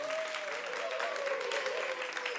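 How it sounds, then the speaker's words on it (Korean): Audience applause filling a Korean StarCraft II GSL Code S esports studio after a player interview, a steady dense wash of clapping with crowd murmur and a faint sustained tone beneath. "뜨거운 박수 부탁드립니다"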